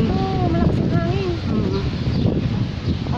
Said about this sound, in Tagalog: Oo, malakas yung hangin.